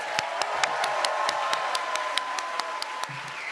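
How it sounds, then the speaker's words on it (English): Steady applause from an audience at a naturalization ceremony for new citizens, with dense clapping throughout and a few sharper nearby claps standing out. "One more round of applause for all of our new citizens."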